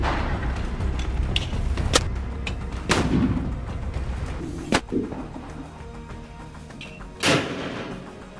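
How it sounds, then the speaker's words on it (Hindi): Several rockets fired into the sky from among greenery in Gaza: four or five loud, sharp launch blasts at irregular intervals, each with a brief rushing tail, over a steady outdoor rumble. "हमास ने इस हमले का एक वीडियो भी जारी किया है, जिसमें हरियाली के बीच से एकाएक कई रॉकेट दनादन आसमान की तरफ फायर हो रहे हैं।"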